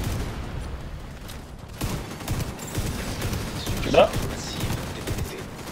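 Gunfire in the video game Dark Hours, a busy spread of shots under excited voices and background game noise, with one sharper burst standing out near the middle.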